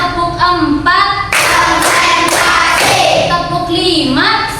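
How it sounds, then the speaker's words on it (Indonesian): A classroom group clapping hands in a counting ice-breaker, loud sharp bursts of claps mixed with children's chanting voices, close and lively. "Kita tepuk 1, 2, 3, 4, 5."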